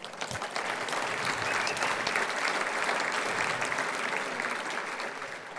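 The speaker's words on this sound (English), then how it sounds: "A plus, by the way, for that applause all night." An audience in a hall gives sustained, dense applause at the close of a 2018 Hall of Fame honors ceremony, steady and even throughout without cheering.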